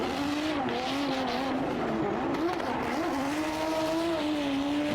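A drift car at an FIA Intercontinental Drifting Cup qualifying run screams close and loud with a wavering high engine note and steady tire squeal, continuous throughout with no talk.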